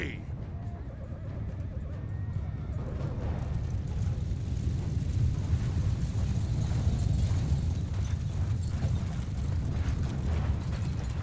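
Cavalry hoofbeats in a Mount & Blade II Bannerlord battle, a dense continuous rumble of many horses with neighing and battle clamor, steady and loud throughout, with voices shouting over it.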